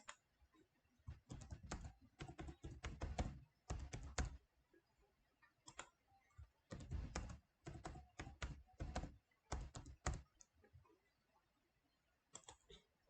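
Bursts of quick keystrokes on a computer keyboard, close and clear, come in several separate runs with short pauses between them, like a password being entered, with no talking.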